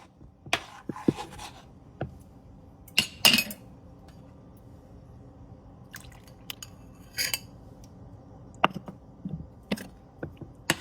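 A spoon stirs thickening custard in a pot, giving soft scrapes, faint liquid sounds and scattered clinks against the metal. The sounds come intermittently and close by, with no voices.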